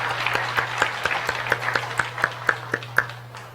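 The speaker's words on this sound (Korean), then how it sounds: "우리 큰 박수로 환영하겠습니다." A church congregation claps to welcome new members during a Sunday service, sparse distinct hand claps at a steady rhythm over a low constant hum, fairly quiet and distant.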